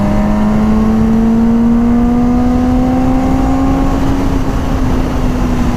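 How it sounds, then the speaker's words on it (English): Yamaha R1 motorcycle rolling on the throttle in top gear, a loud, close engine whine climbing smoothly in pitch as it accelerates hard, continuous with no talk. "Even in top gear, when you just roll on the throttle, not even like full acceleration, it accelerates very fast,"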